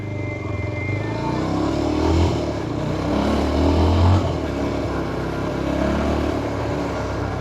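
A 2026 Yezdi Scrambler motorcycle engine drones loud and close, swelling twice as it pulls away at low speed in first gear.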